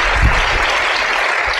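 Audience applause greeting a speaker at an EdTech leadership talk, a dense, loud burst of clapping that fills the whole short stretch without pause.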